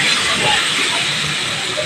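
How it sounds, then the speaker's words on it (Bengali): Water poured into a hot pan of rui fish curry with potatoes gives a loud, steady hissing rush that stays even throughout the moment. "রান্নার জন্য পরিমাণ মতো জল দিয়ে দিলাম।"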